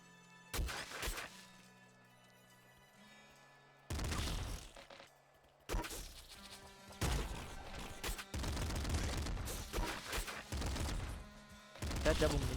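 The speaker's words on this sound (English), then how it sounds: "That double minigun. That's a double minigun." Double minigun in the game Nuclear Throne, dense bursts of rapid-fire shots with crashing impacts, starting and stopping in long stretches, close and loud.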